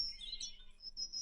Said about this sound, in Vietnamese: Nơi đây thật là yên bình, chỉ có tiếng chim hót và tiếng nước chảy.